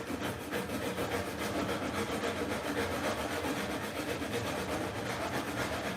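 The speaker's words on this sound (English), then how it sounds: "you can also use like a level with a piece of sandpaper on it" Sandpaper mounted on a level rubs back and forth across the frets of a new guitar neck, a continuous close, gritty scraping with quick repeated strokes and no talking.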